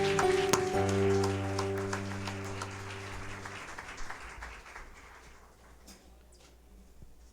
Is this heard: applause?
yes